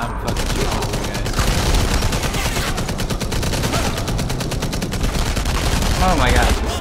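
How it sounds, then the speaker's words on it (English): Dense, continuous gunfire from the video game Enemy Front, with overlapping rapid shots from several guns sustained throughout and faint voices mixed underneath. "I'm fucking shooting all these guys."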